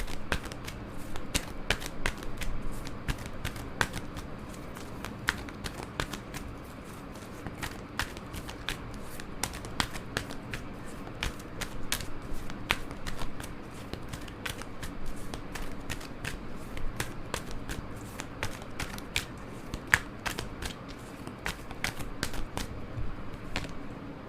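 Tarot cards are shuffled in a long, continuous run of crisp, rapid riffling clicks and flutters, close and fairly quiet, with no talk.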